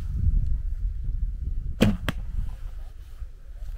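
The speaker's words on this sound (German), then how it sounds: "könnt ihr überhaupt sehen, wo der Rolf hinschießt" An arrow is loosed from a bow at an outdoor 3D archery tournament in drizzly weather, giving one sharp, close release snap followed quickly by a second crack, over low rumbling wind and ambient noise.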